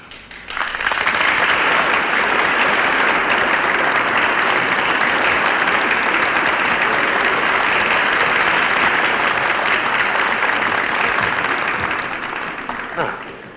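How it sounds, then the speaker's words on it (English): Dense, loud applause from a theater audience in a film rises quickly and holds steady as a broad wash of clapping for over ten seconds before trailing off. "Listen to the audience applaud."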